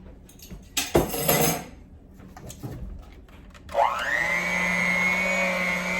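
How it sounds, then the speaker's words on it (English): A Hamilton Beach handheld mixer starts up after a few clinks of dishes and utensils, then holds a steady high motor whine with a low hum underneath, close and continuous, while waffle batter is mixed. "This is a Hamilton Beach handheld mixer, in case you were wondering"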